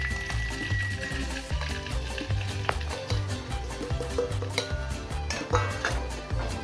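Masala spices added to garlic frying in a pan for a mutton dish, with metal clinks and scraping from a spoon against the pan over a low, steady background hum.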